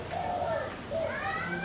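Soft cooing of a tekukur, a spotted dove, two or three low rolling coos, fairly close with faint background noise.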